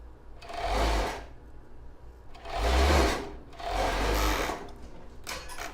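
Three short bursts of a sewing machine stitching around a plus-size bra, loud and near, with brief pauses between each run.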